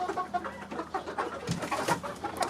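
A backyard flock of around fifty young chickens and guinea fowl clucks and calls nearby, with overlapping squawks and soft cooing chatter that keeps up without a break.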